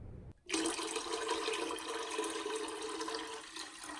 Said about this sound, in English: we're going to fill it up to about right here with filtered drinkable water